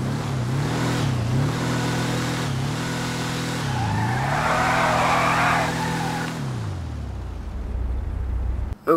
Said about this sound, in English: let's check how the engine sounds